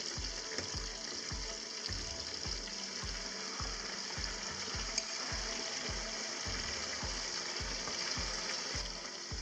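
Duck confit legs cooking in a pan for cassoulet give off a steady sizzle and bubbling, with a regular low thumping pulse running underneath throughout.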